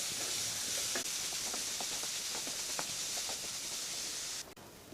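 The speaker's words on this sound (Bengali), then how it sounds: "পেঁপেটাকে হালকা করে একটু ভেজে নেব" Grated raw papaya fries lightly in a pan over a low-medium gas flame, giving a steady close hiss and sizzle with a few soft stirring scrapes, then cutting off abruptly near the end.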